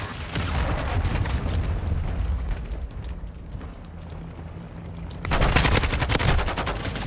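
Automatic gunfire from Call of Duty: Modern Warfare II multiplayer rattles in sustained rapid bursts, briefly thinning before a louder, sharper stream of shots resumes at close range.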